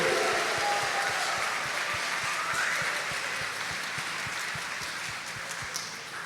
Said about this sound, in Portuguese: brada uma salva de palmas e um grito de alegria